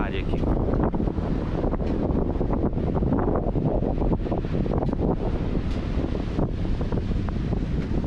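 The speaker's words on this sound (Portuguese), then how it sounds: "Hoje está um pouco movimentada as águas porque está ventando bastante" Strong wind buffets the microphone continuously over a wash of surf at Pântano do Sul beach, Florianópolis, Brazil, loud and unbroken throughout.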